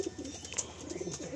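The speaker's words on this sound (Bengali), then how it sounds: "এটা মাঝি পায়রা আছে।" A majhi pigeon in a full loft coos softly in low, rolling calls, faint and close, with light background noise and no talking.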